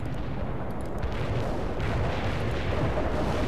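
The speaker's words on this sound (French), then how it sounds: "Le QG signale que le missile a été tiré." A missile launch in the video game World in Conflict makes a steady, heavy low roar with rumbling, booming texture that holds at an even loudness for the whole stretch, with no voices over it.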